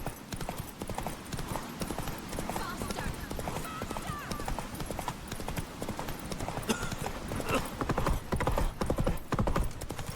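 Horse hooves clip-clop at a steady gallop across The Witcher 3 game world, a continuous rhythmic drumming with game ambience and occasional voiced dialogue over it.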